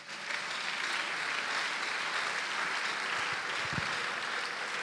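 A church congregation applauds together in a dense, steady burst of clapping that fills the room for several seconds, loud and continuous throughout.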